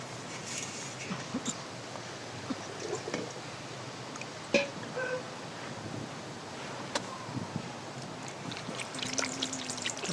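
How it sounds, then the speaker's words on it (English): Water pouring and trickling during handwashing at a puja in a Surbiton ashram, a soft continuous splash with faint clinks and small knocks, fairly quiet and steady throughout. "I'm washing my hands"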